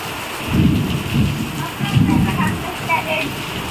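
Rain pours steadily during a storm at a house, with low rolling rumbles of thunder swelling and fading several times over the constant wash of falling water.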